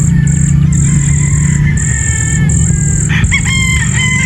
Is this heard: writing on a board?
no